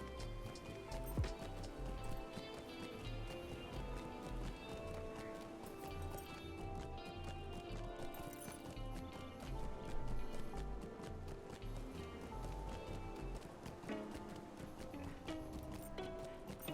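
Horse hooves clip-clop in a steady rhythm while a rider travels in a video game, sitting quietly under a busy layer of game music and ambience.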